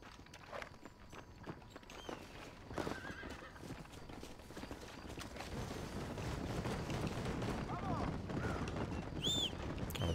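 Horse hooves clip-clop in Red Dead Redemption, a steady walking rhythm close by, joined by a horse's whinny partway through and layered over game ambience and music.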